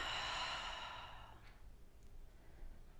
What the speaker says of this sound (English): Now simply breathe.